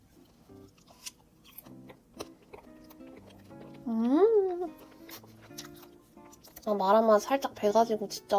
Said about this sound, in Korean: 일단 이 바삭해 보이는 막창부터.